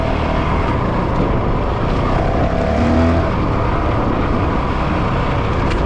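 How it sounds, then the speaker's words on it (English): A Honda CRF 450 RL dirt bike engine roars steadily while riding, a loud continuous motor drone with no pauses and no talk over it. "I really love the sound of this bike."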